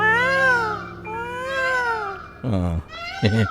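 A person imitates a cat's mating yowl, drawn-out wavering meows repeated several times up close, followed by shorter sharper cries.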